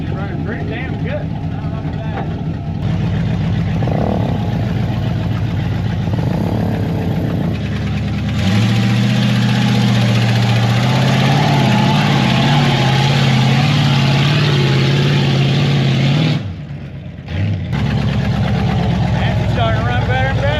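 A budget two-wheel-drive mud truck's engine runs and idles steadily up close, with a loud continuous rumble that swells and dips while people talk over it.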